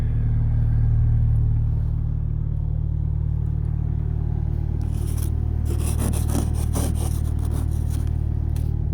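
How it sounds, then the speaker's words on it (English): Ice and snow are scraped off a car on a snowy, cold morning over the low rumble of an idling engine, with quick, repeated scraping strokes starting in the second half. "Scraping ice off, scraping snow off is a pain in the butt."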